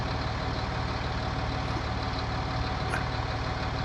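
A tractor engine idles steadily in Farming Simulator 19, a constant low mechanical drone that holds alone throughout with no talk over it.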